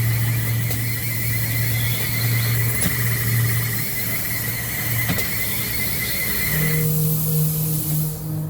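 A haunted tent Halloween prop's soundtrack plays on and on, with a steady eerie tone, a high whine and faint clicks, and the pitch shifts near the end.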